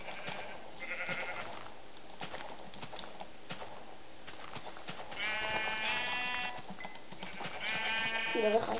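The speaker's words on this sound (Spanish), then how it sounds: "Y vamos a matar ovejas." Minecraft sheep bleat in short digital calls, clustered mostly in the second half, with block footsteps clopping and a voice talking quietly underneath.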